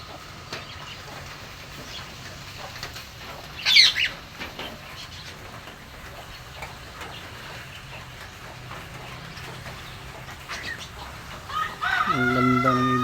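A rooster in a quiet outdoor setting in the Philippines gives one short, fairly faint crowing call over low background ambience, followed later by a few softer sounds toward the end.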